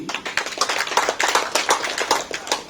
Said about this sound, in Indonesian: Tepuknya kurang kuat, tambah satu lagi.